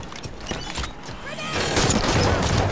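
Heavy, punchy gunfire in Halo 5: Guardians, a dense barrage that swells louder in the second half amid battle noise.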